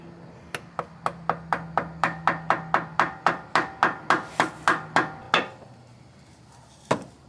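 A screwdriver hammered through a car oil filter: about twenty sharp metallic blows in a steady, quickening rhythm, loud and close, followed by one last strike after a pause.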